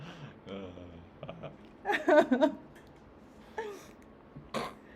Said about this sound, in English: I'm laughing so much I'm coughing